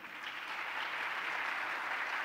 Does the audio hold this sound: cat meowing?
no